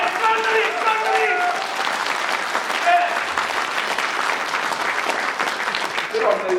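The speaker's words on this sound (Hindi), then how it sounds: "रश्मि शाह के लिए जोरदार तालियां।" A seminar audience gives loud, sustained applause for a volunteer named Rashmi Shah, the clapping steady and full, with faint voices calling out over it.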